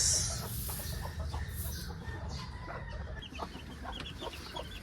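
A broody Rhode Island Red hen clucks in a farmyard in a steady run of soft, repeated clucks, fairly close and moderately loud, with a little background noise.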